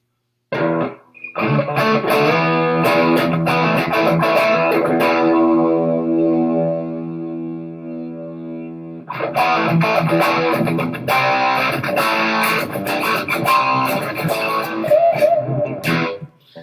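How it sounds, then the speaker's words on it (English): Electric guitar through a Super 100 crunch amp from a gear collection, playing loud distorted chords and sustained notes, with a held ringing passage in the middle before the strummed crunch comes back. "Just a really good crunch amp that you can use with any of the pedals in here, create your own tones."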